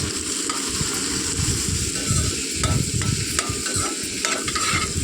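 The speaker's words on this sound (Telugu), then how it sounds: "నెక్స్ట్ మనం ఇందులో మనం ప్రిపేర్ చేసుకున్న ఆయిల్ ఆనియన్స్ క్యారెట్ వెజిటేబుల్స్ అన్ని వేసేసుకుని బాగా కలుపుకోవాలి" Onions, carrots and other vegetables stirred in hot oil for a noodle dish, with a steady loud sizzle and scraping stir strokes throughout, no talking.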